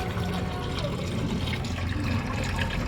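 Water from a tap runs into a flood-damaged engine near its injectors and radiator, a close, continuous splashing trickle with gurgling, and nothing else over it.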